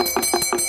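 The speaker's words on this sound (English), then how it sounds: "Bell ringing and chanting are powerful tools in a puja used to dispel negative forces and invite the divine." A small bell is rung rapidly during a Hindu puja held by Newari worshippers honouring a living goddess in Nepal, giving four quick bright strikes close up with no voices over them.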